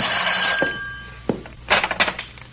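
An old-fashioned telephone bell rings loudly and continuously at first, then stops; afterward come a few handling thunks and clatters as the receiver is picked up.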